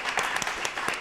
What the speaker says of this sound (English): Let's give a round of applause to our wonderful producer